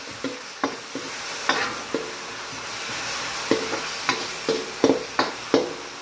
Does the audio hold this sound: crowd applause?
no